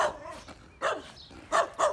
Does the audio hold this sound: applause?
no